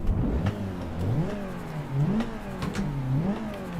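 A car engine in the Assetto Corsa driving game revs up and down through several gear changes, with a steady, rising and falling mid-pitched drone heard close and alone.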